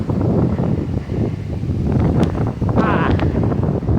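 Strong wind buffets the microphone with a rough, continuous roar, while faint voices come through underneath.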